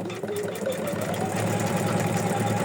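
A sewing machine runs slowly in a steady rhythmic chug, its mechanical clatter and hum continuous and close for the whole stretch.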